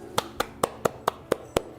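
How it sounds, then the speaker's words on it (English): A single person claps hands in a steady, even rhythm, eight crisp claps close to the microphone over a faint background hum. "I heard someone else clap."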